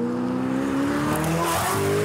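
A McLaren 720S accelerates hard under turbo boost, its engine note climbing steadily in pitch, loud and close, before cutting off abruptly.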